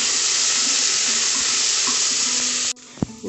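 Mustard seeds dropped into hot oil in a pressure cooker sizzle loudly in a dense steady hiss, which cuts off abruptly near the end, leaving faint clinks and a soft knock.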